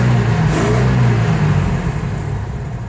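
A 1977 Ford F-350 wrecker's engine runs steadily and loud up close, a continuous mid-pitched drone with a slight rev early on, while the PTO fails to engage.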